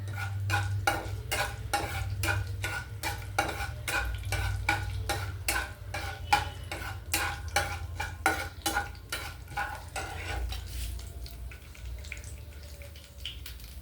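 Urad dal, dried red chillies and cumin crackling in hot oil in a pan, a dense run of sharp pops and sputters over a steady sizzle that thins out toward the end, with no talking.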